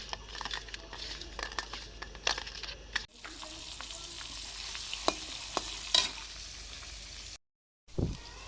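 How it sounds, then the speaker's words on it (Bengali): Fish frying in a pan gives a steady broadband sizzle with occasional stirring clicks, cut by a brief silent gap near the end. "এবার মাছটা ভাজতে দিয়ে দেবো।"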